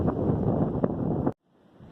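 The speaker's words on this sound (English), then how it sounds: "So it's super windy up here." Strong wind roars and buffets the microphone for over a second, then cuts off abruptly, leaving a faint low rumble.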